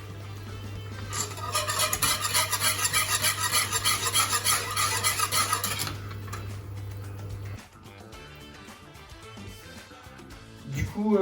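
A spoon stirs broth with two bouillon cubes in a pot, producing rapid, regular clinking and scraping against the metal for several seconds over a steady hum, followed by quieter handling noises.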